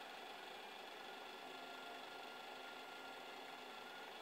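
A Creality CR10S 3D printer, fitted with a syringe in place of a hot end, extrudes cookie dough at room temperature, giving a faint, steady, even motor whir and hum that runs unbroken.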